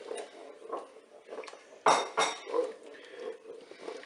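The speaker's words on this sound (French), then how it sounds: "je vais rajouter la crème fraîche dans la cuve. Je vais bien sûr mélanger." A spoon stirs crème fraîche into mushroom soup inside a Cookeo multicooker pot, with a few sharp metallic clinks and scrapes against the bowl between soft quieter stirring.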